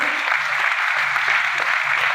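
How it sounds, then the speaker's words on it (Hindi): An audience at a business motivational talk claps steadily in a continuous, even wash of applause for a couple of seconds, with faint voices underneath. "ताली जोरदार बजाएं।"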